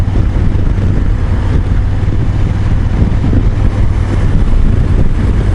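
A Honda CRF1000L Africa Twin motorcycle on the move, a steady low engine drone buried under heavy rushing wind buffeting the microphone, continuous and loud throughout.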